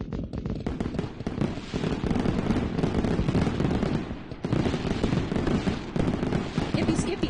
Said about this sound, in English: That's what all that fireworks happiness is about.